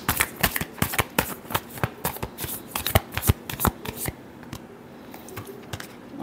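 Tarot cards being shuffled in a rapid run of crisp riffling snaps and flutters, close and fairly loud for about four seconds before easing into quieter, sparser card taps.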